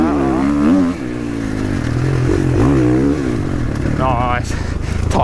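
A 2022 GASGAS dirt bike engine revs hard on open throttle during a ride, a loud, close, rising and falling motor whine that continues throughout.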